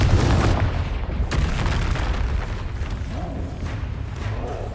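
Explosive fire and blasting spells from the game Hogwarts Legacy crack in a steady barrage of booms, with a heavy blast at the start and more rumbling bursts layered in a dense, loud combat mix.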